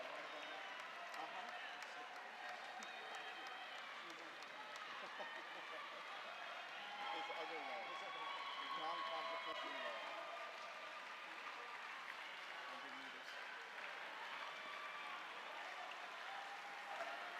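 A crowd cheers and applauds at a rowing sprint race, a steady, distant wash of clapping and shouting that swells slightly midway, heard fairly faint under a commentator's voice throughout.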